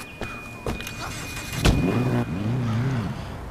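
A car in the Sleeping Dogs game fires up with a couple of clicks and a sharp start, then its engine revs up and down in two rising whines, close and clear with no talk.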